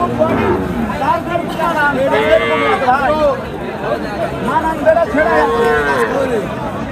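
Cattle low repeatedly at a busy livestock market, long rising and falling moos close by and loud, heard beneath steady crowd chatter and nearby voices.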